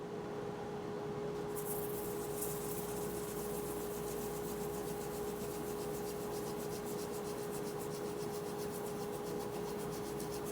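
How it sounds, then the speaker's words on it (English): Steady, continuous rasp of hand sanding across the rim of a wooden bowl, close and even in texture throughout, with a constant background hum and no talking. "just finishing up the sanding here"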